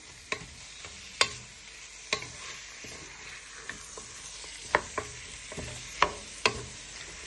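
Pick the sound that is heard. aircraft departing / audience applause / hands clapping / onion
onion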